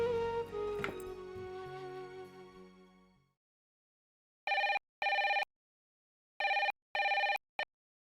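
An electronic telephone ring sounds in two double bursts with a single short chirp at the end, clear and alone after a fading musical sting in a Hindi TV drama scene.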